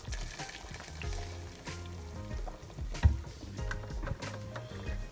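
Blended tomatoes go into sizzling chicken palm nut soup in a pot, with a steady frying sizzle and stirring clatter, plus a sharp knock midway.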